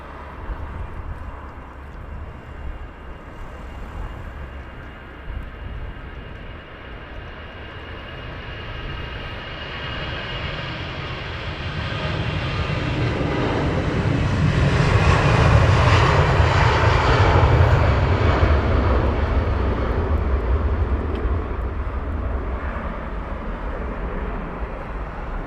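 An aircraft departing at Heathrow Airport, a jet engine roar that swells from a distant rumble to a loud peak midway and then slowly recedes, with no voices.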